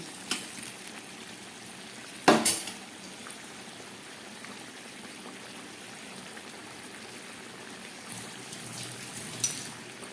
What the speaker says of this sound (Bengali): মাংসটা ফুটে উঠেছে